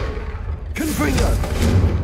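The Confringo fire spell in Hogwarts Legacy lands as a sudden loud blast that bursts into a sustained roaring whoosh with tonal ringing threaded through it, sitting close and dense after a moment of low ambience.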